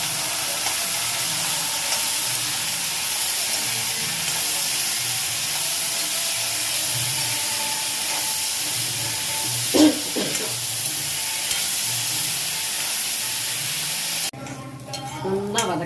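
Chopped bitter gourd sautéing in hot oil for a pickle, a steady close sizzle with stirring scrapes throughout, a brief louder clatter midway and a change near the end.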